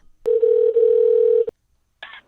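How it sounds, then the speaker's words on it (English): A telephone dial tone sounds loud and close as a call is placed, a steady tone lasting just over a second that cuts off sharply, followed by a brief burst of higher tones. "Let's give old Margarita a call."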